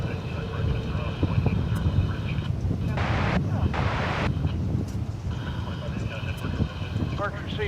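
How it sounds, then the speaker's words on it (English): Airliner arriving from Seattle at DFW Airport, a broad steady roar of jet engines and wind rumble filling the whole stretch, with people talking over it. "That's the flight from Seattle we talked about a few moments ago."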